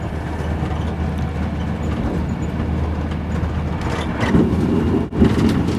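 From inside a Virgin train heading from Rugby toward Watford Junction, a loud, constant low rumble of the carriage on the rails, with a brief pressure dip and rattle near the end; no speech.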